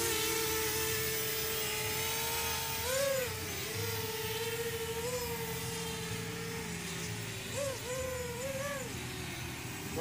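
A homemade DIY quadcopter hovers nearby with a buzzing, whining drone of its propellers. The pitch rises and dips as the throttle is nudged, and the sound carries steadily throughout.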